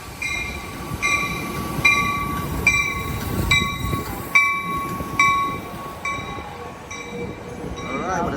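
An Amtrak Capital Corridor train led by a locomotive arrives at Oakland Jack London Square station, with a repeating bell ringing over the low rumble of rolling cars and faint wheel squeal near the end.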